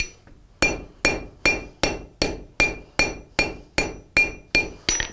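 A blacksmith's hammer strikes metal about eleven times at an even, steady pace. Each loud, close blow rings briefly with a metallic clink before fading into the next.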